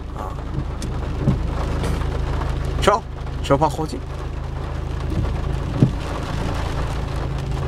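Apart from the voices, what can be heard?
thunderstorm with heavy rain and thunder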